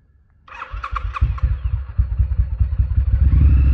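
A 2018 Triumph Street Scrambler motorcycle fitted with aftermarket slip-on exhausts and a TEC camshaft cranks briefly, then fires and settles into a loud, close, lumpy idle with a steady pulsing beat and no voices.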